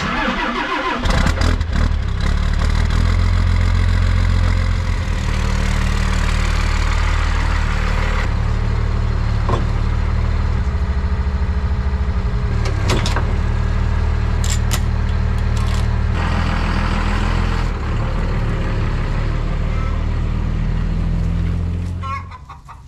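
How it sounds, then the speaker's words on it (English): A Cummins diesel truck roars with a deep, loud, continuous engine drone for about twenty seconds, the revs rising and falling as its tires spin, and the noise fades at the very end. "Torque of the Cummins spins those tires too easily."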